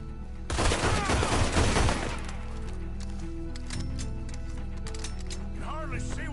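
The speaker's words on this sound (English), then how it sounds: "Can hardly see what I'm shooting at." Dense burst of gunfire from a nighttime shootout in Red Dead Redemption 2, a rapid volley of loud, close shots for about a second and a half, then quieter scattered shots and game ambience, with voices talking over it.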